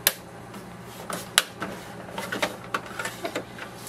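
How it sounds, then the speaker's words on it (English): An HP DeskJet Ink Advantage 2775 printer powers on with a quiet run of clicks and small mechanical ticks at irregular intervals, and a few sharper clacks stand out over a low hum. "switch on the printer, so press the power button"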